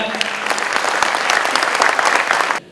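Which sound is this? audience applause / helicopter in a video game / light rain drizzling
audience applause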